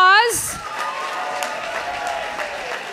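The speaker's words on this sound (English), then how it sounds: "Round of applause" Audience applause with scattered cheering at the closing ceremony of the BronyCAN 2014 convention, a steady wash of clapping from a crowd in a hall that holds evenly for several seconds after a brief voice at the start.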